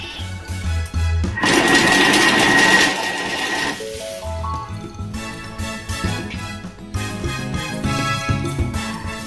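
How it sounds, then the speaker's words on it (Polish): Kitchen food processor grinding cheese with salami in short bursts, a loud whirring motor spin that starts, cuts off and restarts. "Zakładamy miarkę i pokrywę i rozdrabniamy ser."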